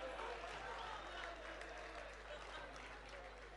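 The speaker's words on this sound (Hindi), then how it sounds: "तालियां बजाइए।" Steady applause from an audience at a Hindi comic poetry gathering, continuous and fairly even throughout, with some voices mixed in underneath.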